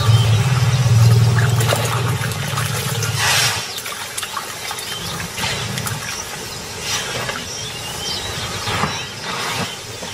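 The fast-flowing Mara River in the northern Serengeti rushes and splashes, a continuous broadband wash of water with gurgling surges, close and fairly loud, a low rumble fading early on.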